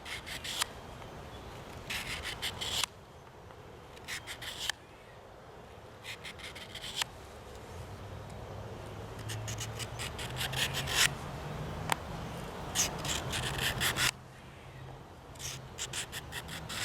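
A knife blade drawn across the abrasive plate of a Work Sharp Guided Field Sharpener in repeated quick rasping strokes, grouped in bursts with short pauses between, close and quiet, without talk.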